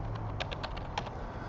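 Quiet, rapid clicks from a computer keyboard in a machining shop office, a short burst of irregular key taps heard alone over low background hum.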